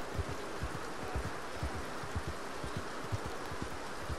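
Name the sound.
rain in the video game Red Dead Redemption 2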